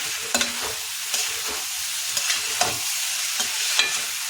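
A spoon scrapes and stirs mixed vegetable sabji with fresh coriander in a pan, giving irregular clinks and scrapes over a continuous soft sizzle of frying, close and steady with no talking.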